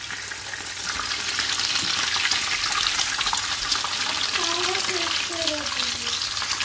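Meat frying in a hot pan as it is turned over, a loud steady hiss of sizzling fat rising after the first second, with a faint voice briefly underneath.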